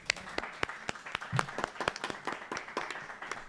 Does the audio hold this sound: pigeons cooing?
no